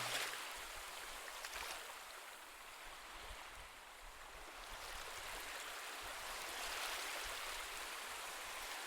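Ocean waves wash onto a seashore in a continuous soft rush of surf, rising and falling gently over several seconds, heard from a short distance and fairly quiet, with no voices.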